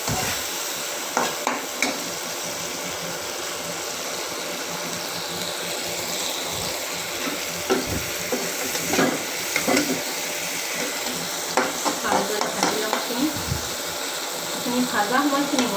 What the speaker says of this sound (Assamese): বিলাহী ভালদৰে ভাজি ল'ম।